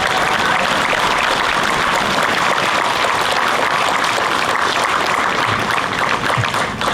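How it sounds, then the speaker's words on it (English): A crowd at an outdoor Flag Day monument dedication and ribbon cutting gives a steady, full round of applause, dense clapping continuing for several seconds without speech. "We get a round of applause for our city as a strategic partner."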